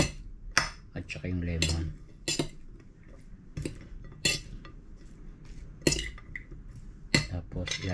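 A utensil stirring ampalaya salad with salt in a bowl, giving sharp clinks and scrapes in irregular bursts, with a person talking between them.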